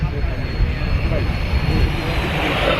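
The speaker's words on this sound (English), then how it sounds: "This is an attack helicopter, but it can also carry out a large range of roles" At an airshow, a Wildcat attack helicopter produces a steady, loud, broadband engine and rotor roar with deep low rumble, sustained without a break.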